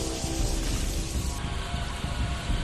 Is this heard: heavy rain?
yes